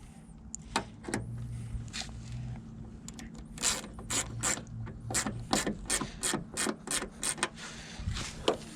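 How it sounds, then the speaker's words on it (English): A hand ratchet clicks in quick bursts while bolts are tightened on a door part of a 1999 Honda CR-V, close and fairly crisp, with pauses and handling noises between the runs of clicks. "We'll finish tightening that down in a minute."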